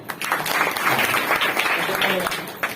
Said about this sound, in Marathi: तुम्ही सर्व मायबाप श्रोते मंडळी सुंदरशी साऊंड सिस्टीम तुकारामदासाठी टाळी वाजवा